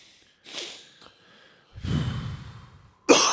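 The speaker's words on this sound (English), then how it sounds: "Heavy breathing." A person breathes heavily into a podcast microphone, with a few sighing exhales and a louder, close, breathy burst at the end.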